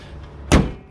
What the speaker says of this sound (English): And if you're satisfied, you close the hood